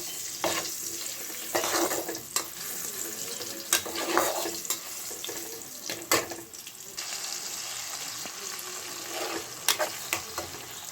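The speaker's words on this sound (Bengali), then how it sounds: "চলো মশলাটা এবার কড়াইতে দিয়ে দিই। আলুটা ভাজা হয়ে এসছে।" Spice paste and fried potatoes frying in oil in a kadai, a loud dense sizzle close by, broken by repeated scraping and clanks of a spatula stirring the mix, no voices.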